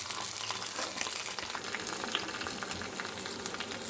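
Crackling mustard seed tempering poured into a pot of crab rasam gives off a dense, steady sizzle and bubbling hiss. It holds at an even loudness throughout and is heard alone, without talking.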